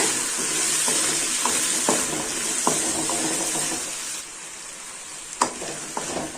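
Onions and eggplant sizzle steadily in a hot pan for a spicy curry, with occasional scraping clicks as they are stirred; no voices.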